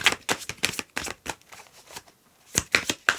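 A deck of playing or oracle cards is shuffled in several quick riffling bursts with short pauses between them, close and crisp.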